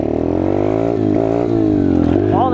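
A Peace Moto Chinese dirt bike engine held at a loud, steady idle-to-rev drone, pitch swelling slightly and climbing at the end, close and continuous.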